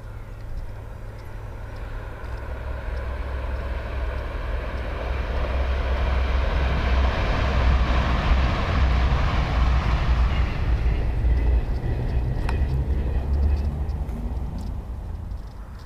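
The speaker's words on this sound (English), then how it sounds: "A Plymouth-bound Super Voyager gains power towards Leeds." A Super Voyager diesel train engine roars and builds in power near Colton Junction, a deep rumble swelling to a loud peak before easing off as it passes nearby.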